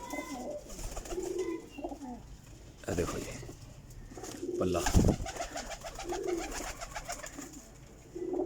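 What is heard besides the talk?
Kasuri type pigeons cooing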